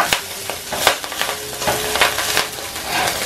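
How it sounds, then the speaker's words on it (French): Rice stirred together with golden fried vermicelli in a hot pan, loud close scraping strokes repeating in quick succession over a steady fry sizzle. "On ajoute le riz. Et on les mélange un peu."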